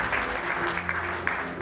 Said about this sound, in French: Est-ce qu'on peut applaudir très fort pour Monsieur Alain Le Mignon?